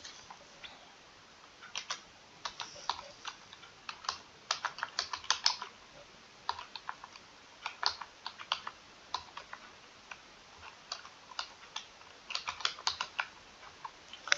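Keys clatter on a computer keyboard as a function name is typed into VS Code, a quick run of soft close clicks in bursts with brief pauses, quiet and alone.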